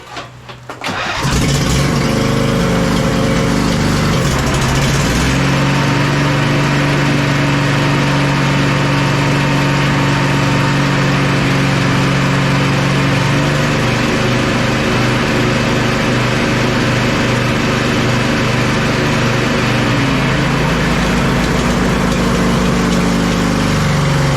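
The engine of a 2005 Husqvarna YTH2448 ride-on lawn mower cranks, catches and runs steadily at a loud close idle, with small shifts in pitch and no talking.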